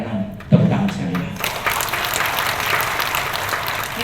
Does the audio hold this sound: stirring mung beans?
no